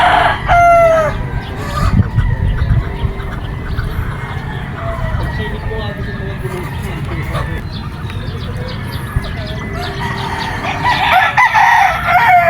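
A brown red gamefowl rooster with a pea comb and dark legs crows loudly at a gamefarm, once at the start and again near the end, with clucking and voices in between.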